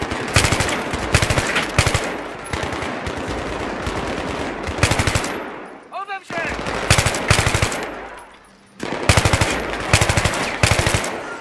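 Automatic gunfire from the Battlefield 3 video game rattles in loud repeated bursts, broken by a brief lull with a short whistling sound before heavy firing resumes, with a voice speaking faintly underneath.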